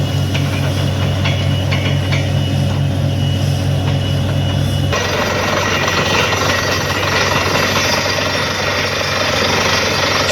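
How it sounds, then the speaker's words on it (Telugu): A borewell drilling rig runs at a new construction site, a loud continuous mechanical roar and vibration with a sudden shift in tone midway, steady and close throughout. "సో బోర్వెల్ డ్రిల్ చేద్దామని చెప్పేసి బోర్ బండి అయితే వచ్చింది మన ప్లాట్లోకి"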